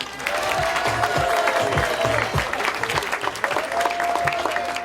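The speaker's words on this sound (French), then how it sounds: "On peut applaudir bien fort" Applause rises from an audience thanking volunteers and sponsors at a youth raid event on Réunion, steady and moderately loud, with background murmur and a faint tonal whistle woven through it.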